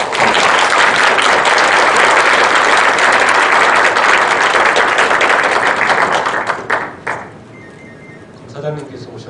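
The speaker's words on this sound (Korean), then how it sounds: "검사장님과 국장님께 뜨거운 환영의 박수 부탁드립니다" Lecture audience welcoming a chief prosecutor and an office director with loud, dense applause for about six seconds, then it fades into scattered last claps, light thumps and room noise.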